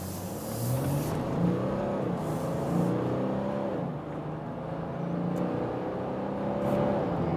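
A Mercedes X-Class V6 diesel pickup in sport mode accelerates hard, its engine note climbing through gears with brief dips at each shift, heard steadily from inside the cabin.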